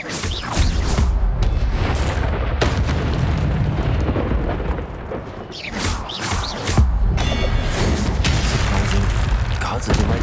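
Fiery Incendio spell blasts in a Harry Potter video game, heavy booming bursts that crash and roar loudly throughout, with brief lulls between surges and no talk.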